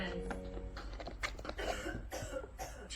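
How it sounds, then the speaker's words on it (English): A chesty cough bursts out in several close, harsh, phlegmy hacks over a steady low background hum. "Chesty cough?"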